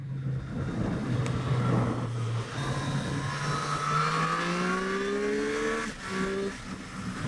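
A 2023 Triumph Street Triple 765RS revs hard and accelerates, its engine note climbing steadily in pitch through the gears over several seconds, loud and close with wind rush behind it.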